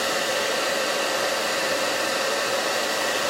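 Hair dryer running on its hot setting, a steady loud blowing whoosh with a constant motor whine, close by and unbroken throughout.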